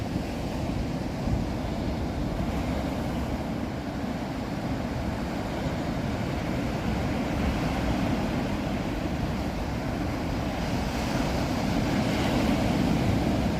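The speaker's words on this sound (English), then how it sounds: "Can you guys hear the waves pretty good" Ocean waves at Pacifica beach near San Francisco at night, a low, steady rumbling wash of surf mixed with wind buffeting the microphone, fairly faint and continuous with no voices.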